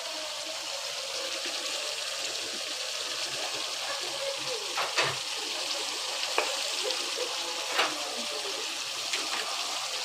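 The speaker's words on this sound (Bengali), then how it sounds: "এই যে আমি অল্প অল্প করে আমার সবজিটাকে আমি দিয়ে দিচ্ছি।" Cabbage goes into a pan of beef being braised in oil, a steady wet sizzle holding throughout with a few brief louder spits and crackles as the shredded vegetable lands.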